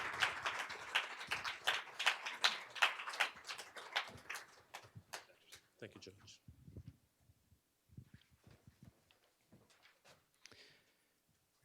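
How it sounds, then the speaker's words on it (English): An audience at a Board of Education oath of office ceremony claps, fairly faint and brief, dying away within about five seconds into a few scattered claps, footsteps and murmuring. "Let's give him a round of applause"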